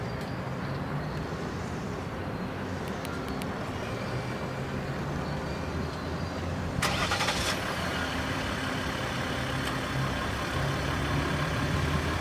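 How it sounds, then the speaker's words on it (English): A 2014 Ram 1500 EcoDiesel Laramie Limited pickup runs with a low, steady engine rumble that holds evenly throughout, picking up a brief brighter burst partway through. "I'm gonna start it up for you so you guys can hear it."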